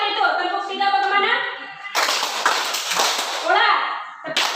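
A group claps together in a counted clap pattern, a dense burst of hand claps lasting a couple of seconds, framed by an adult voice speaking before and after.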